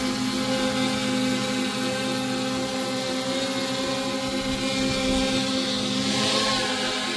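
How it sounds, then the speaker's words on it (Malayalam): A DJI Mini 5 Pro drone takes off and hovers nearby, its propellers giving a steady, loud whirring buzz with constant tonal hum and no pauses, without any talking. "അപ്പോൾ നമ്മുടെ ഡ്രോൺ ഇങ്ങനെ പൊങ്ങിയിട്ടുണ്ട്"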